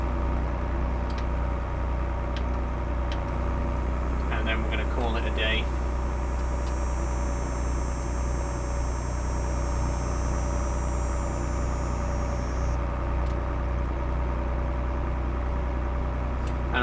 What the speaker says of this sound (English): we're going to take the tractor back to the farm